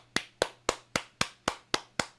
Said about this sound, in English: Everybody, please clap for ourselves.